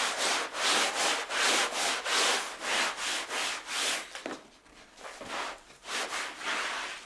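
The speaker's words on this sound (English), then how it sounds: "So I'm going to wipe off the excess wax." A cloth rubs back and forth across waxed wooden furniture in steady, loud strokes roughly every half second, pausing briefly midway before the rhythmic wiping resumes.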